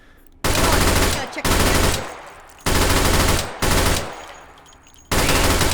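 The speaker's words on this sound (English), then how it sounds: "So what this basically is a faster firing version of the SMG." A fast-firing SMG variant in the H3VR game rips off five loud, dense bursts of automatic fire, each about half a second to a second long, separated by short gaps, with a brief spoken word among them.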